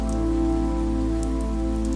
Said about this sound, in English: The rain slowly lets up, and the clouds disperse.